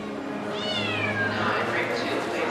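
A Devon Rex show cat meows at a cat show, one drawn-out, falling cry rising over steady hall noise and a murmur of distant voices.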